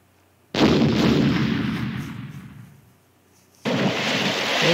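Heavy gunfire in a Philips CD-i shooting game, two loud sustained bursts of booming, artillery-like shots, the first fading over about three seconds before a short pause and a second burst.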